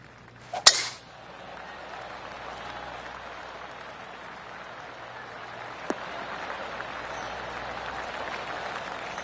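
Golf spectators on the course give a golf clap after a birdie putt on the 10th hole. One sharp, close clap is followed by a faint, thin patter of light clapping.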